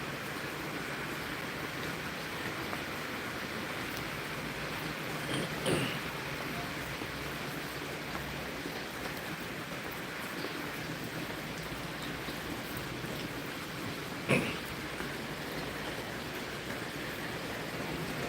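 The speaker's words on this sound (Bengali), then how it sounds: "রাত থেকেই জাপানে বৃষ্টি" Steady rain in hilly Nagano, Japan, falling as a dense, even hiss that runs unbroken throughout, with a couple of faint knocks and no voices.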